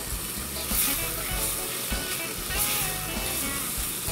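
Garlic and seasoning frying in a pan give a steady, loud, close sizzle that runs without a break, with faint stirring beneath it and no talking.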